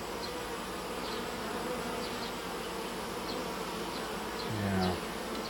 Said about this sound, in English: Alright, so we got tons of bees here.